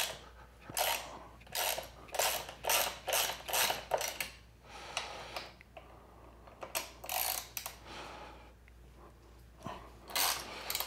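A wrench working loose the four bolts, giving a string of close ratcheting clicks in quick bursts with short pauses between them, alone without talk.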